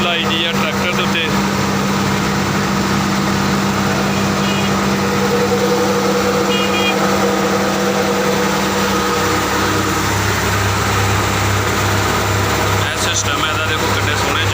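A rice hulling machine driven by a tractor processes Super rice paddy, giving a loud, steady mechanical drone with a low engine hum that continues unbroken throughout.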